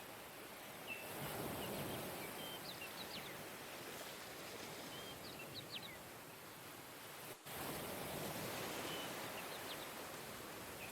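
Steady light rain patters on a roof as a broad continuous hiss, with faint bird chirps scattered across the background and a brief dropout partway through.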